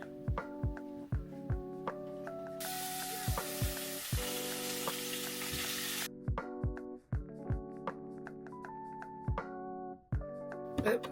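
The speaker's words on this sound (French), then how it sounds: "Là, je vais faire mon saumon. Je vais l'assaisonner et après je vais le faire cuire." Seasoned salmon cooks in a pan, a burst of sizzle rising loudly for a few seconds in the middle, with faint frying elsewhere beneath steady, prominent background music.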